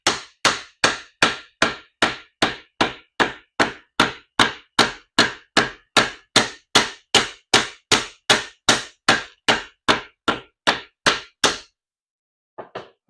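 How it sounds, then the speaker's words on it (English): A hammer taps rapidly and evenly on leather, setting thread into a groove of a knife sheath, about two strikes per second, close and crisp, for roughly eleven seconds before stopping, with one faint tap after. "It'll set in the groove if you take your hammer"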